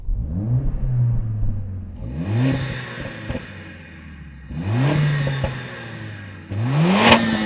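A Mercedes-AMG engine revs while stationary, four separate blips that each climb sharply in pitch then settle back to a burbling idle, loud and close, with a small pop among the later revs.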